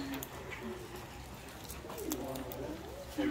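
A dove or pigeon coos nearby at an excursion site in Roatan, Honduras, soft low repeated coos under faint background chatter and outdoor noise.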